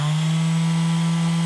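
A Bosch GSS230AVE orbital sander runs with a steady, loud, close electric whine, then cuts off abruptly at the end.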